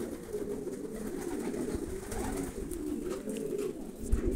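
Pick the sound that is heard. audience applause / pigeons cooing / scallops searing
pigeons cooing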